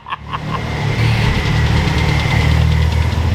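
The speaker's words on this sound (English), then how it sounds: "Rev it." Turbocharged Mitsubishi Evo 8 engine revving up from idle, rising into a loud, sustained drone with a steady rumbling throb, close and alone with no talk; an intermittent knocking fault has been reported on this engine.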